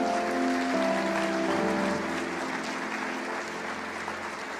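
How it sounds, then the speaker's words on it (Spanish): A church congregation applauding, a dense sustained wash of clapping from many hands at a moderate distance, steady then slowly easing, with faint voices and tones mixed in. "Dale un aplauso a Jesús."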